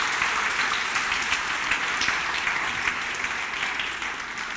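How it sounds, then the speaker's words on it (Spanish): A church congregation applauds steadily for the Lord during a Spanish-language service, with dense, sustained clapping that fills the room at an even level throughout. "Dale un aplauso al Señor."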